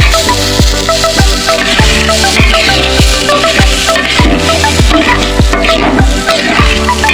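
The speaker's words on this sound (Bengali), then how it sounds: "এটা ভালো করে ভেজে নেব। কাজুটা দিয়ে দিলাম" Cashews fry in a pan of hot oil for basanti pulao, giving a loud, steady sizzle broken by regular stirring strokes about every half second, close up and with no talking.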